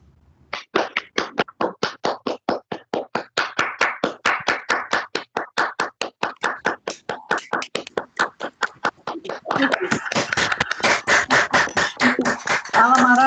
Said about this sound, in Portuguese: Olha só. Os aplausos.